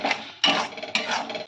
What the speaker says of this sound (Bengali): সব কিছু একসাথে ভালো করে কষে নেব।